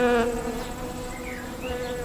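A bee hums steadily all the way through, a loud and continuous insect drone that wavers slightly in pitch and stands alone with no voices.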